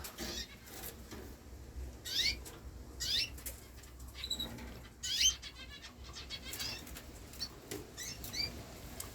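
Quick bursts of wings flapping and fluttering against a show cage, with a few faint chirps, set against a low rumble of stormy wind in a birdroom.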